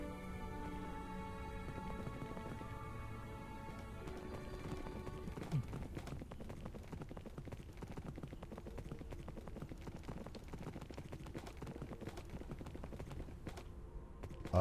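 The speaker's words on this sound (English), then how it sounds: "Horses!" Horse hooves clip-clop in the video game Minecraft, a quiet, steady stream of rapid clicking steps over faint background music.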